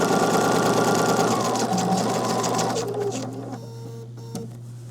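A sewing machine stitches a zipper onto a pillow in a steady, fast mechanical whir, close and loud, then slows and fades toward the end with a few softer clicks.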